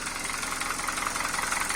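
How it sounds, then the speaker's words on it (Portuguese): Close-up running engine of a 2012 Hyundai Veloster 1.6 gasoline with automatic transmission, a steady loud idle with a fast rhythmic knocking tapping through it and no talking. "Deixou pra nós aqui batendo o motor forte, ó."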